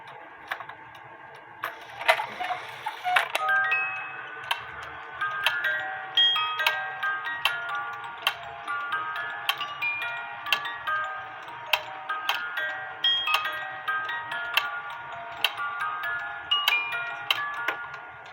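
An E. Schmeckenbecher spinning wheel cuckoo clock ticking steadily while a bright music drum plays a tinkling melody over the ticks, close and moderately quiet with no talk.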